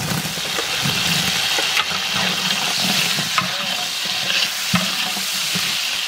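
Capsicum stir-fried in a pan of fried rice, with metal stirring and scraping over a steady, fairly loud sizzle and a few sharper clanks; no talking.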